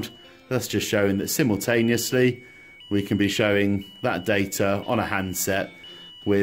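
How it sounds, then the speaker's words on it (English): Overload alarm on a load cell (load link) data-logging basestation beeps steadily in the background, a faint continuous tone running under close, continuous talking throughout. "you can probably hear a beep going on in the background"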